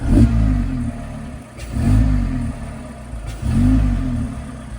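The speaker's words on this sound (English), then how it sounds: "DJ blipped the throttle and it sounded kind of cool" Three repeated throttle blips from a Mazda ND Miata with a cold air intake, each engine swell rising quickly and falling back to idle, loud and close with no talk.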